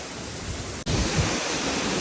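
A waterfall roars as a broad, continuous rush of falling water, loud and close, interrupted only by a momentary dropout before the steady noise resumes.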